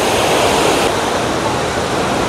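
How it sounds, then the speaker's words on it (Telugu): Dhuandhar waterfall at Bhedaghat pours with a loud, steady roar of falling water and spray, continuous and close. "వాటర్ తుప్పలు పడుతున్నాయి కదా మన మీద"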